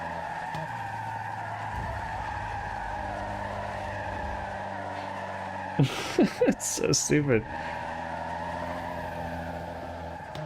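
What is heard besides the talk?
car tire screech while drifting in a video game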